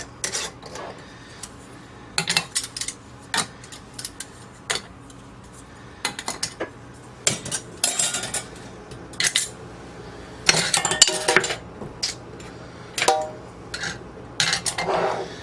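Metal canning rings are screwed onto glass jars while canning stuffed peppers, making scattered close metallic clinks, scrapes and taps in irregular bursts with quiet gaps between.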